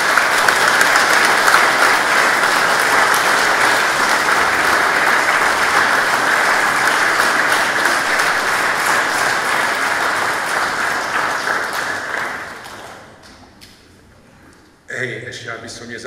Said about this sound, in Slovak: myslím, že si zaslúžite od nás, od ostatných, vy všetci jeden veľký potlesk.